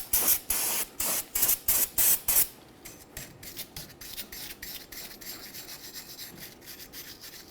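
Spray cleaner hits the rear brake mating surface of a 1999-2006 Chevrolet Silverado 1500 in about eight short hissing bursts. A stretch of softer rubbing and scrubbing strokes follows, close up and without speech.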